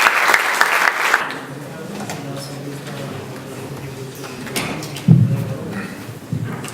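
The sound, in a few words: audience applause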